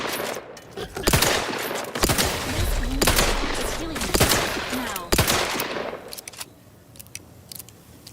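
Video game gunfire in Outer Worlds 2: several sharp bursts of shots and rapid automatic fire cracking through the game soundscape, with brief voices between volleys.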